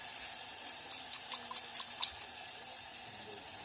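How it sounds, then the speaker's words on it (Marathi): Hot water poured into a spicy masala for a village-style chicken curry, a soft steady running splash with small drips, fairly quiet and close. "आणि या मसाल्यात देखील आपल्याला गरमच पाणी घालायचं आहे"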